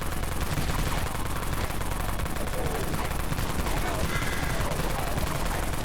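Dawn Mag machine gun firing in the shooter game Dead Frontier, a loud, dense, unbroken stream of rapid automatic shots with no pauses, close and harsh throughout.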